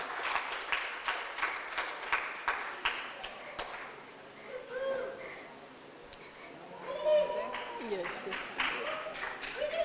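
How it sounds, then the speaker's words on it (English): Audience applause at a live-streamed certificate of recognition ceremony for an events coordinator: a burst of clapping in the first few seconds, then fading into voices and scattered sounds. "Round of applause, ladies and gentlemen, to Pinklin."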